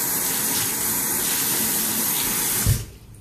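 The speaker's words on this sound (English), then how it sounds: "That's cold water, Janet." Cold water runs from a tap into a sink while a body cloth is wetted, a steady close-up rushing gush that carries on for nearly three seconds before being shut off abruptly.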